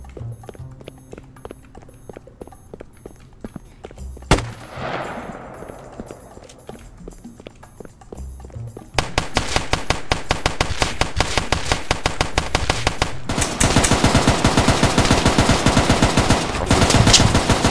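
Machine-gun fire in a Roblox street game: a few scattered shots, then a long, loud, rapid burst, a short gap, and another sustained stream of fire.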